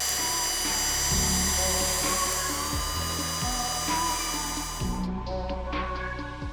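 A power drill whines steadily with repeated surges and drops in speed as it bores holes for a Honda CRF450L motorcycle fairing kit, close and loud, then cuts out near the end.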